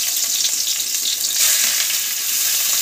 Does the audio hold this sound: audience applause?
no